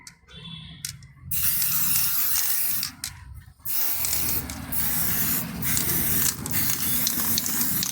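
Spray paint hisses steadily onto an alloy wheel in long, loud continuous bursts, with short pauses between passes.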